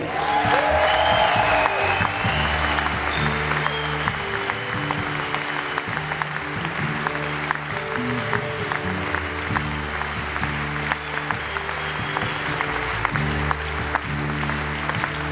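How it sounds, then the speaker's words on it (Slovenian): A crowd claps steadily in sustained applause for the whole stretch, with music playing underneath. "En aplavz prosim za Iztoka Novaka Izija."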